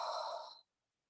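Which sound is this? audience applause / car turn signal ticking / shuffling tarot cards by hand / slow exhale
slow exhale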